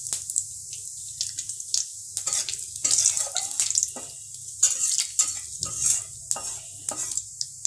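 Whole cumin seeds crackle in hot oil in a pan for an egg and potato curry, giving bursts of sharp, spitting sizzle and light pan clinks that come and go in short, irregular spurts.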